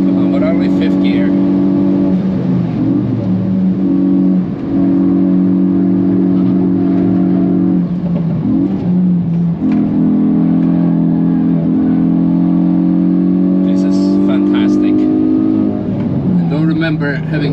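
Hyundai car engine held at full throttle in fifth gear on the Nürburgring, a loud steady droning roar with harmonic pitch that rises and dips briefly a few times across the lap, with someone talking over it.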